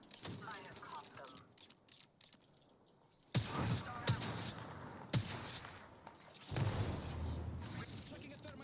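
Gunfire in the battle royale game Apex Legends, with loud bursts and individual shots in several clusters, close and punchy, mixed with game voice lines and a person talking.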